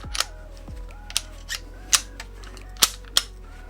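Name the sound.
gas airsoft Kar98k rifle bolt chambering a shell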